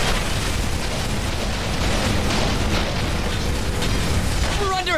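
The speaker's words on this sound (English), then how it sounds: "Artillery strike!" Artillery strike explosions in a sci-fi video game with aliens and powered exoskeletons: a continuous, loud, dense barrage of booms and rumbling bursts with no pause, ending in a short rising electronic tone.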